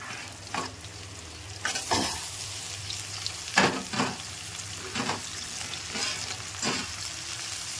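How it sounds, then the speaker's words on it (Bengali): Potatoes and bitter gourd stir-fried together in a pan: a steady sizzle of frying, broken by repeated scraping strokes of a spatula roughly every second, close up, with no talking. "আলুগুলোকে অ্যাড করে দিয়ে একই সাথে নেড়ে চেড়ে ভেজে নেব।"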